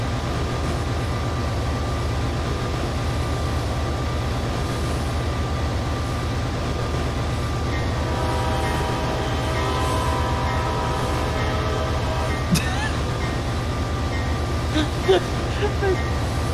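A CSX 7513 freight train runs eastbound on single-track main line in the Run 8 train simulator, making a continuous, loud diesel rumble with a steady engine drone and a few faint clicks near the end.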